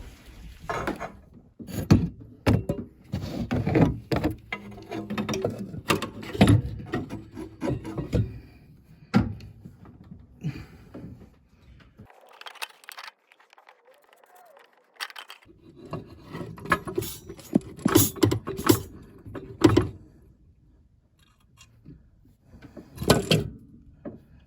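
A rebuilt turbo assembly for a VW 2.0 TDI engine in a Jeep Patriot is worked onto its mounting studs. Close, irregular metallic clunks, knocks and scraping come in bursts, with a quiet pause partway through.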